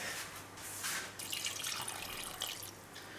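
Water poured from a tap or jug over oranges in a cooking pot for marmalade, a soft splashing and trickling stream that swells and fades over a few seconds with no voices.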